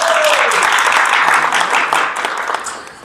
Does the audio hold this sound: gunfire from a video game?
no